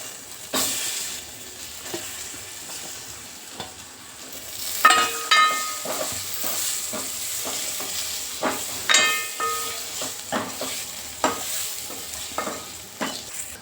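Drumstick pieces (shenga) frying in oil with masala and a little turmeric for a Khandeshi keoti dal: close, bright sizzling with repeated bursts of crackle and stirring clatter, no voices.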